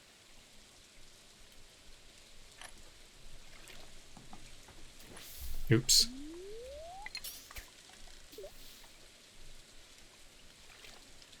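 Rain during a rainy-day fishing session in the video game Stardew Valley: a soft, steady patter runs underneath, with scattered game sound effects, a rising tone and a brief spoken exclamation.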